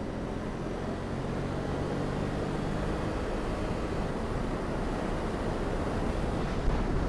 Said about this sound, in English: Right, let's open the visor. Sorry if you're going to get some wind.